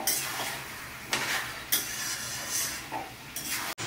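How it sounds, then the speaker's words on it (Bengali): Mutton sautéing in a pan gives a close, steady sizzle, broken by several bursts of scraping and stirring, with a sharp metallic clink near the end. "খুব ভালো করে মাটনটা কষিয়ে নেব"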